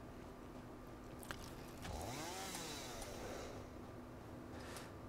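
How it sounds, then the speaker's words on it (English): A chainsaw cuts through material in the video game Satisfactory, its whining pitch rising and wavering for a couple of seconds midway over a steady mechanical hum, with no voices. "And then we're gonna do some chainsaw action."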